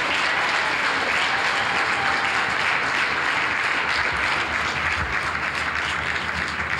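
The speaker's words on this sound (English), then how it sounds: "Clap, clap for Jesus Christ." Sustained applause fills a church healing service, many people clapping together in a dense, steady wash that carries on evenly throughout.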